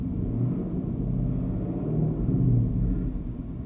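Ford Mustang GT V8 with Corsa Extreme exhaust revving, a deep rumbling burble that swells briefly and falls back, heard steadily and fairly quietly with no voices.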